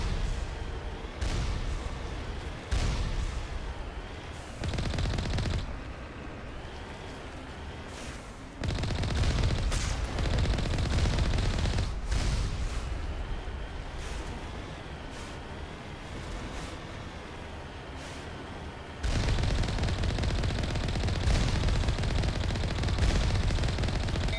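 Gunfire rattles in the Mass Effect Legendary Edition game, loud and near, with dense bursts of automatic fire and blasts broken by brief pauses, continuing over about twenty seconds.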